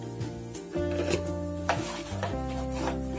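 A spoon stirs and scrapes through besan laddu mixture of gram flour, melting sugar and a little salt in a pan, making soft rhythmic rubbing and scraping strokes under a continuous background hum.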